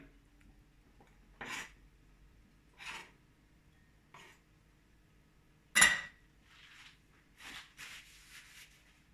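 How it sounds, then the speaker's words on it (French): A pepper mill grinds pepper over a salad with feta in a quiet kitchen. It makes several short, dry, rasping bursts separated by pauses, plus a couple of faint clinks. "Un tour de moulin à poivre."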